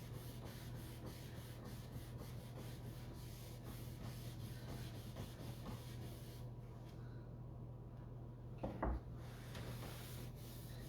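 Wood stain is rubbed lightly along the grain of a wooden surface, making a soft, steady, faint brushing swish over a constant low background hum, with one brief louder knock near the end.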